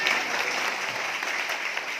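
Congregation clapping together in a church, a continuous bright wash of hands that stays even and fairly close, with faint voices mixed underneath.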